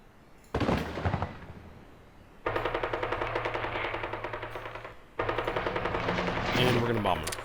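Gunfire from an all-out assault in the strategy game Hearts of Iron 3, with rapid machine-gun bursts in three long rattling volleys, loud and continuous, with someone talking faintly underneath.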